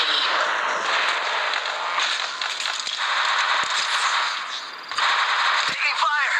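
Dense bursts of automatic gunfire from the battle royale game Apex Legends Mobile, loud and sustained with sharp individual shots cutting through near the end, with no talking.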